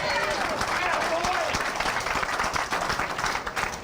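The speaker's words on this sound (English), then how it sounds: "Getting a little loud in here," A hometown crowd at a bowling alley applauds and cheers loudly and continuously, with clapping and voices blending into a dense, steady roar.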